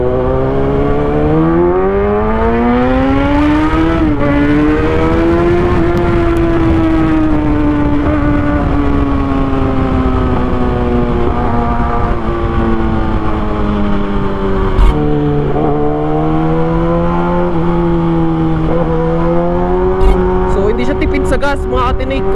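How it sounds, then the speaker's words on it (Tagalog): A Kawasaki ZX6R motorcycle muffler revs loud and close, its engine pitch rising and falling through sustained throttle blips, with a brief dip and climb in the second half. "puro ingay ng muffler"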